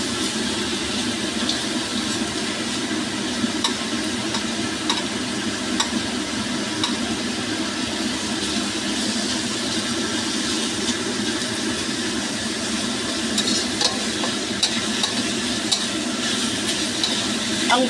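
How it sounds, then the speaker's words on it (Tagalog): Shrimp being stir-fried for a seafood pancit canton noodle dish, a steady loud sizzle with scraping and stirring in the pan that runs continuously. "Sangkutsahin natin mabuti yung ating shrimp."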